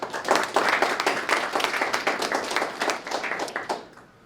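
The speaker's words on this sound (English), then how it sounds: "a quick round of applause for everyone" Audience applause at a university fall graduation celebration, a steady round of dense clapping that holds for about four seconds before trailing off at the end.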